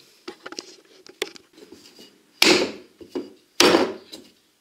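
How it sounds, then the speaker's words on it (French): Fougasse dough with black olives kneaded by hand without a mixer, giving several loud, broad slaps and thumps of dough on a surface between softer pats and squishes, close and with no talk. "ma pâte arrive en fin de pétrissage. Ça fait 5 bonnes minutes que je la travaille"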